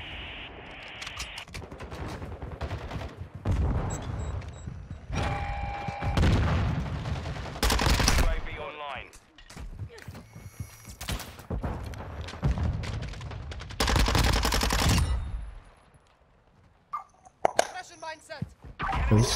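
Minibak submachine gun fire in Modern Warfare 2 comes in rapid bursts with quiet gaps between them, loud and close, and a player's voice talks over parts of it.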